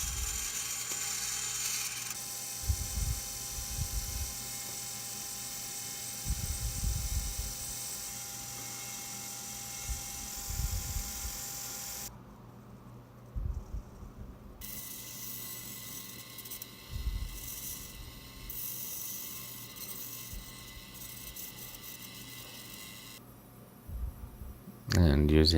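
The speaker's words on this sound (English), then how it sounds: "using the bandsaw to cut the profile" Bandsaw cutting the profile of a bushcraft knife handle: a continuous whining, buzzing machine drone with harsh cutting rasps rising and falling, a brief lull midway, close and steady throughout.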